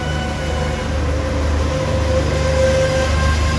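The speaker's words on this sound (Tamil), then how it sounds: "அப்படி ஒரு குலுக்கம் இல்லாமல் போய்கொண்டிருக்கு ட்ரெயின்." A luxury first-class passenger train runs steadily in Sri Lanka, heard from inside as a loud, continuous low rumble of wheels and carriage with a faint tonal hum, no voices.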